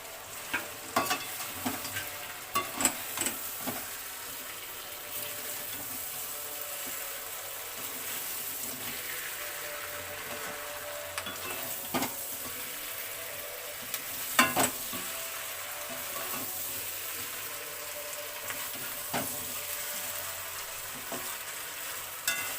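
Chicken pieces for chilli chicken fry steadily in a pan, a continuous close sizzle broken by repeated scraping knocks and clatters as the spatula stirs them, with no talking.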